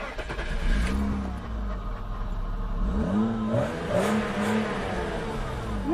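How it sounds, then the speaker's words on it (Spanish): A car engine starts and revs repeatedly, loud and close, with rising and falling whines as the throttle is blipped several times. "Le robé la llave a Román y nos vamos a dar una vuelta a ver qué hace este coche"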